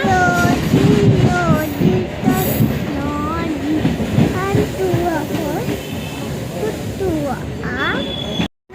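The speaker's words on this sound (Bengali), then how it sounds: "আমাদের ট্রেন ছেড়ে দিয়েছে তাই তো মামা" A moving passenger train in Bangladesh, heard from inside a carriage as a steady rumbling ride with rhythmic clatter, under continuous nearby talk and voices throughout.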